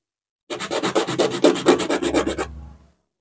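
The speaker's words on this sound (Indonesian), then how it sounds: "bisa diratakan dengan amplas seperti ini" Sandpaper rubbed over wood to level and smooth it: a run of quick, even rasping strokes, loud and close, then a short fading tail, with no voices.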